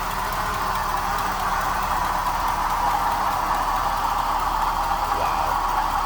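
A 1972 Oldsmobile 98 Holiday four-door hardtop with a 455 V8, power steering and power brakes, idles with a leaking exhaust manifold gasket, giving a steady, loud, even engine drone with no talking.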